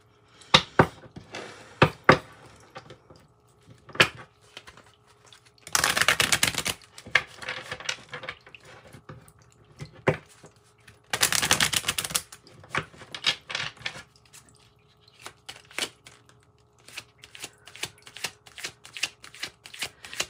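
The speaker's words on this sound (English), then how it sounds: "let's pull some clarifying cards" Tarot and oracle cards are shuffled and drawn: two dense riffling bursts of a second or so each, close by, among sharp taps, slaps and soft card handling with quiet gaps between.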